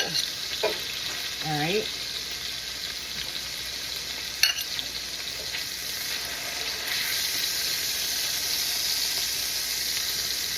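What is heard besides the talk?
pork chops sizzling while frying in pan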